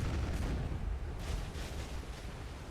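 Ship cannons firing during a naval fight in Black Desert Online, heard as a continuous loud roar of booming blasts and rumbling gunfire with no talk.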